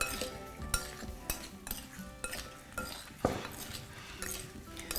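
Potatoes tossed with thyme, garlic and oil being mixed in a pan or bowl, with steady scraping, clinking utensil-on-dish stirring strokes repeating close up, no talking.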